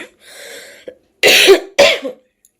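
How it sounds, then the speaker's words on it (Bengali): A person coughs nearby, a strained throaty sound followed by two sharp, loud cough bursts in quick succession. "যখন একটু কাশতে যাচ্ছি না খুব কষ্ট হচ্ছে।"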